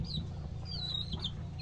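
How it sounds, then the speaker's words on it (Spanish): A laying hen on a small home farm clucking softly, a few faint rising calls over a steady low background hum. "Ya la gallina se observa ahí que ya comenzó a poner."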